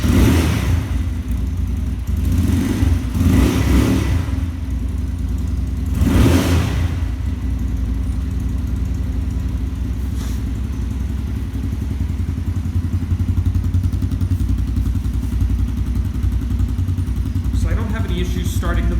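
A cold X-22 125cc motorcycle engine is started with the choke on, cranking in several short loud bursts before catching into a steady, loud idle. A voice speaks briefly near the end.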